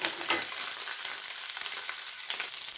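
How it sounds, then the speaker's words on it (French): Fish fillets fry in a hot pan, giving a steady, close, loud sizzle with crackling spatter throughout and no voices. "Et donc continuer la cuisson donc des poissons."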